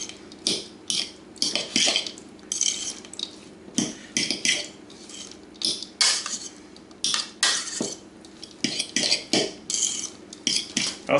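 Chopped bacon is mixed into a bowl of cheeseburger filling, and the utensil knocks and scrapes against the bowl. The clattering comes in rapid, uneven bursts, fairly loud and close.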